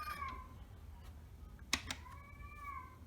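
A pet cat gives two drawn-out meows, close but soft, separated by a quiet gap with a brief tapping click, over a low steady room hum.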